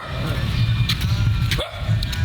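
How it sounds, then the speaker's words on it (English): A loose dog barks a few times at a distance outdoors in Phan Thiet, Vietnam, the short barks half-buried under steady gusty wind noise. "First loose barking dog in a month, I think."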